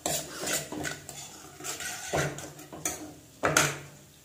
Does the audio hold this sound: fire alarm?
no